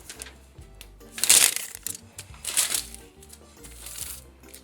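Crisp rustling and crinkling of a paper brownie pan liner as it is creased by hand, in two louder swells with softer scraping between, close by.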